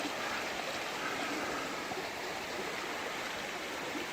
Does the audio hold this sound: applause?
no